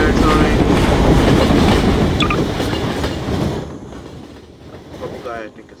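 A video game train plows through nightmare animatronics, rumbling loud with clattering wheels and a brief squeal before fading out, while faint voice-like sounds sit underneath.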